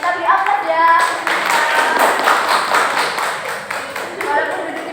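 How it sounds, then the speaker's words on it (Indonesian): A classroom group claps in rhythmic, fairly close applause with mixed voices and chatter over the hand claps. "kembali kita beri aplaus ya"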